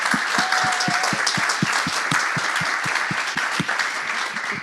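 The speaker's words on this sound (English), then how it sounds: "Can we please just applaud Rosa?" An audience applauds at a child development center event in West Haven, Connecticut, a dense, even burst of clapping with sharp individual claps audible throughout.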